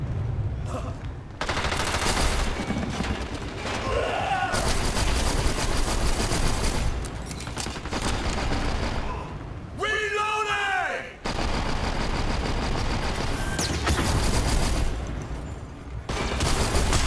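A friendly turret fires almost nonstop in the online shooter Dirty Bomb, a dense, loud rattle of gunfire that runs through nearly the whole stretch with only brief breaks and occasional voice sounds.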